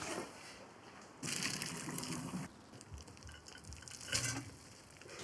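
Cooked pasta being drained in a kitchen sink, a faint wash of pouring, gushing water in a couple of surges with soft dripping, close and quiet.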